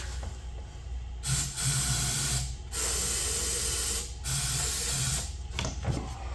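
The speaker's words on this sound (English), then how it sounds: "we'll give it a shot of some carb cleaner here." Carb cleaner sprayed into the engine of a 1997 Ski-Doo MX Z 670 snowmobile comes as several loud, close hissing bursts, each a second or more long, with short pauses between them.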